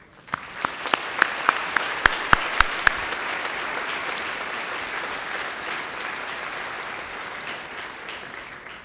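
A commencement ceremony audience applauds the faculty: several loud, isolated claps ring out first, then the clapping swells into a broad, sustained wash that slowly thins toward the end.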